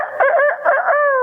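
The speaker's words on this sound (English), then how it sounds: "And the rooster crowed a second time." A rooster crows once, close and clear, its call wavering through several rising and falling notes before ending on a steady held tone.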